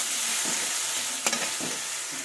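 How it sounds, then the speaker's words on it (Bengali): Onion and tomato sprinkled with salt fry steadily in a pan, a continuous close sizzle broken by a few brief stirring scrapes, with no talking. "এটা একটু ভাজা হওয়ার জন্য আমি অপেক্ষা করবো বন্ধুরা"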